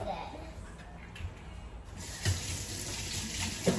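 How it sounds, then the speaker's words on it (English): Water runs from a tap while hands are washed in a kitchen sink, a steady close splashing gush with faint background voices and small clatters. "Wash hands."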